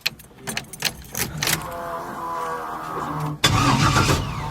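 Keys jangle before a street car engine cranks over with a few rough bursts, catches and settles into a steady idle, then a louder surge of revving near the end, recorded up close with no talking.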